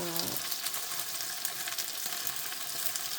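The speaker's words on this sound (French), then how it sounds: "Je laisse frire d'un côté, enfin griller, dorer d'un côté" Shrimp and noodles fry in a pan, a steady close sizzle with a soft crackle that holds evenly for a few seconds with no talking.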